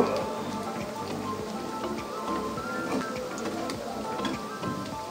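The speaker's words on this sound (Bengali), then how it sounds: "এখন আমি এগুলো উল্টে পাল্টে ভেজে নেব ভালো করে।" Cabbage pakoras fry in oil with a dense, even crackling sizzle that holds steady throughout at moderate loudness, no talking over it.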